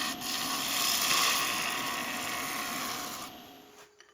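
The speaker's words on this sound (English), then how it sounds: "So here, working on still cleaning up some of that tearout, getting really fine shavings off this" A heavy scraper on a Thompson handle cuts fine shavings from a thin maple bowl on a wood lathe. The steady close rasping scrape runs for about three seconds, then stops.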